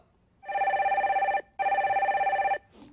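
A telephone rings twice as a radio call-in caller is put through: two long electronic trilling bursts separated by a short gap, clear and alone.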